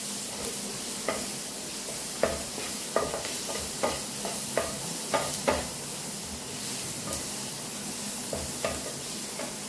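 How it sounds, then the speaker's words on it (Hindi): Egg stir-fried in a pan for chicken fried rice, a soft steady sizzle with repeated light scraping clicks of a spatula at irregular intervals, fairly quiet. "उसके बाद एग, थोड़ा सा स्टर कर लेंगे, थोड़ा सा स्टर फ्राई करेंगे।"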